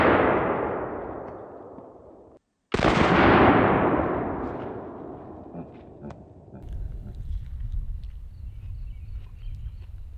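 A 350 Legend rifle fires twice outdoors, a subsonic round and then a supersonic one. Each loud, sharp crack rings out in a long decaying tail, with the second shot noticeably harsher, followed by low rumbling background noise.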